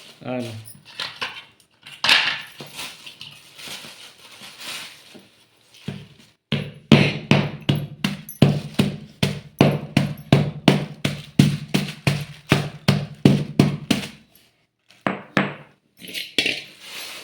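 Jaggery being cut into small pieces with a knife: a fast, regular run of sharp chopping knocks on a board, with scattered cuts and pauses before and after, and a voice talking early on.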